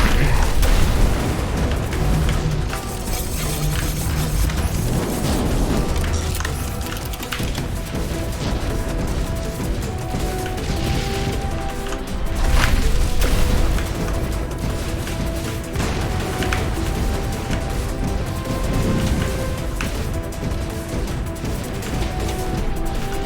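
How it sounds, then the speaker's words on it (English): Bombs go off in a video game, with booming blasts, crashes and splintering debris piling up in a dense, continuous barrage and louder bursts surging now and then. "More bombs"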